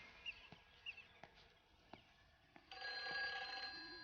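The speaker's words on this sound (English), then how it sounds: "so there's a phone ringing." A video game telephone rings in short repeated bursts over quiet background clicks, then a sustained electronic tone begins partway through.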